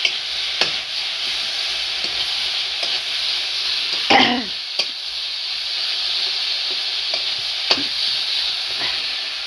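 Potato and cauliflower frying with turmeric and salt, a continuous sizzle with occasional stirring clicks, plus a brief cough or throat clearing midway.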